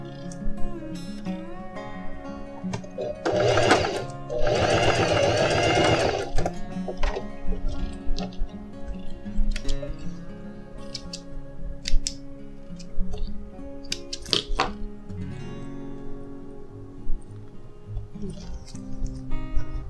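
A sewing machine runs in short bursts, stitching the side seam of a pair of jeans being let out, with a loud run early on and quieter intermittent stitching and handling clicks afterward.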